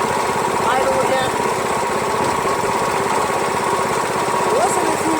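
A plate compactor powered by a Predator 212cc engine idles steadily, a continuous loud close-up chug with even rapid firing pulses and no talk over it.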